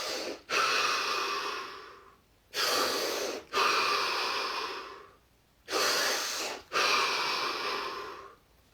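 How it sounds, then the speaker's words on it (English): Deep breaths in a guided breathing exercise, three slow cycles of a sharp audible inhale followed by a long, close, fading exhale, with no talking. "3 deep breaths, followed by 15 seconds of absolute stillness and silence"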